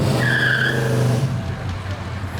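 A car drives and skids in an advert, with a loud engine note and a brief high tire squeal near the start that fades into road rumble, mixed under a voice.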